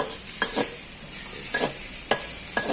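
Boiled pork and pork offal, including stomach, bones and ribs, are stir-fried in a pan: a few sharp spatula scrapes over a steady sizzle, close and with no voices.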